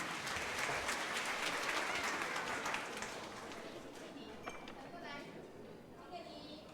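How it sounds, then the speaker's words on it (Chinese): Audience applause greeting a community music class performance at a Christmas celebration, a dense wash of clapping that is strongest at first and then thins and fades, with faint voices underneath. "掌声鼓励。"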